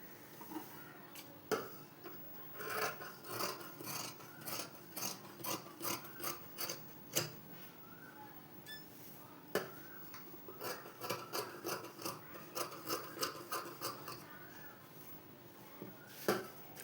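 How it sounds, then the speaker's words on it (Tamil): Scissors cutting cotton blouse fabric on a table, the front panel shaped from the marked back piece: steady irregular rasping snips and rubbing crunches throughout, close and fairly quiet, no talking. "இந்த பேக் பார்ட்டை வச்சு அப்படியே ஃப்ரண்ட் பார்ட்டுக்கும் கட்டிங் பண்ண போகிறேன்"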